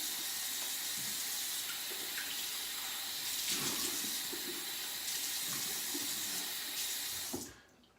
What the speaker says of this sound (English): let me rinse off this brush. And rinse off my face.